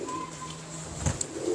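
Pigeons coo softly in a short, low burst, with a faint higher chirp nearby and steady background hiss; no one speaks.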